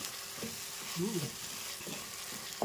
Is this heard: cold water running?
no